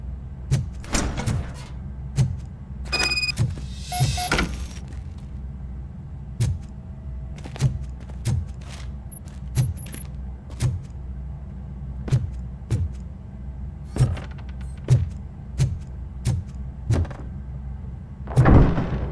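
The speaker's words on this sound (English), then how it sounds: "Now let me get that door open for you." A door opening in the video game RoboCop: Rogue City, heard as a series of mechanical clunks and thuds over a low rumbling background, with a sliding, whirring stretch in the middle and a heavier thump at the end.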